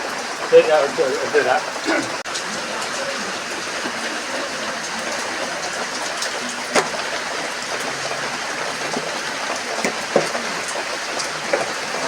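Steady, close rain falls without a break, a dense hiss of drops hitting surfaces. A brief faint voice shows through near the start.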